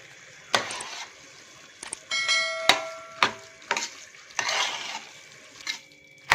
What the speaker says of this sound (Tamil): கொஞ்சம் கொஞ்சமாக இந்த சாம்பாரை இந்த சாதத்தில் ஆட் பண்ணி மிக்ஸ் பண்ணிக்கலாம்